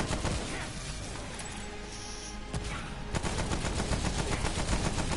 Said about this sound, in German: Das ist die Sniper.